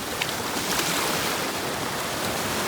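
Sea waves break and wash continuously near a shore where a fishing net is being hauled through waist-deep water, a steady broad roar with no voices.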